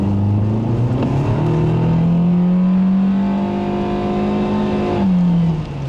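A 2013 Nissan Sentra engine revs hard and climbs to a high, wailing pitch near its 6,500 RPM redline, holds near the top, then drops briefly and surges again, loud and close.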